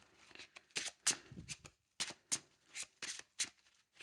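A Yu-Gi-Oh card deck shuffled by hand in a series of quick, close, crisp riffles and slaps repeating in an irregular rhythm, fairly quiet overall and with no talk.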